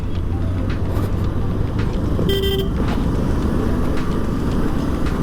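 Dense road traffic in Pune heard from a moving motorbike, a loud constant rumble of engines and wind with one clear car horn toot in the middle and fainter honks around it.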